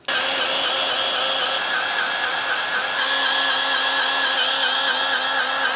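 Electric grease gun motor whirring steadily and loudly as it pumps grease into a fitting on a TYM 2515H tractor, a continuous mechanical whine throughout with no talking.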